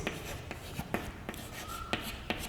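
Someone writes out a maths differentiation solution on a board, with quick scratchy strokes and taps coming in an irregular rhythm, close and steady with no talk.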